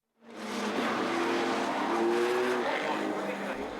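Banger racing stock cars, old Ford Cortinas and Granadas, roar around a track with loud continuous engine noise and squealing, skidding tyres, the din holding steady for several seconds after a sudden start.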